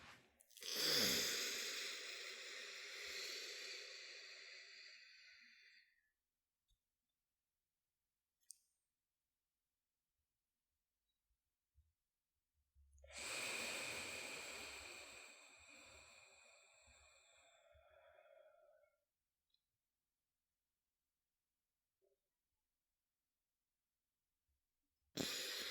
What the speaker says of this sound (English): I breathed in through my left nostril, held it for the count of 4, breathed out through my right nostril